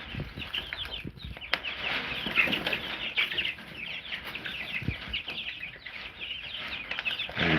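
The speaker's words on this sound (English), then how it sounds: "there's kind of a fair amount of chickens in there" Around twenty-five chickens cluck and chatter continuously while pecking at black soldier fly larvae, a dense, busy flock murmur with occasional louder squawks and a brief flutter of wings, close by.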